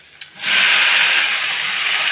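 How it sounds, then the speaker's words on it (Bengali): Dhenki greens tipped into a hot pan of oil with fried garlic and green chillies, setting off a sudden loud, steady hissing sizzle that holds at full strength after a brief quiet start. "এবার শাকগুলো দিয়ে দেবো।"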